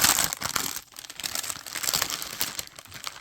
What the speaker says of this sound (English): Sorry about all the rustling.